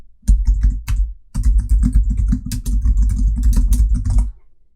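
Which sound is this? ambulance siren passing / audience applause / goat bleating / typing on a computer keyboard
typing on a computer keyboard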